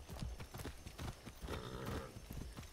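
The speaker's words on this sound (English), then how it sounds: "While riding a horse" Horse hooves clip-clop in a quick steady gallop while riding in the video game Far Cry 6, close and continuous over a busy, noisy game background.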